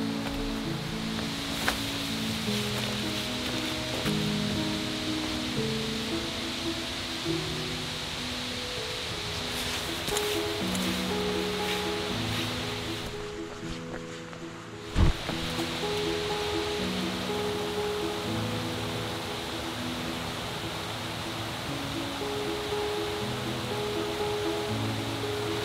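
Steady rushing of a river flowing beside a rocky Appalachian Trail path near Mahoosuc Notch, a constant broadband wash with a brief thump midway and soft music playing over it.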